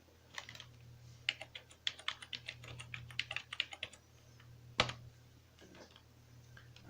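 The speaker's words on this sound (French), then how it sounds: "je vais taper l'adresse IP du Rockstore pour accéder à l'interface de configuration" Keystrokes on a computer keyboard as an IP address is entered to configure a Rockstor file server: quick irregular bursts of close clicks over a steady low hum, pausing briefly before a single louder tap and a few final keys.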